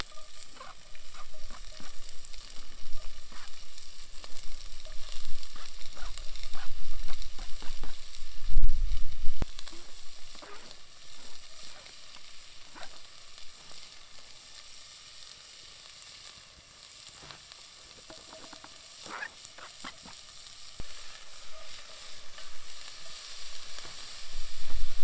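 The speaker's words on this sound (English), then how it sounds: "Yeah, hear that sizzle." Onions sizzle steadily in a hot pot outdoors, a loud crackling hiss with occasional sharp pops and stirring sounds, close by and without any voices.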